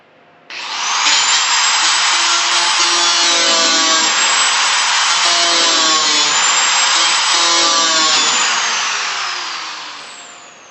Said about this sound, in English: all you got to do to fix that is cut that weld out of there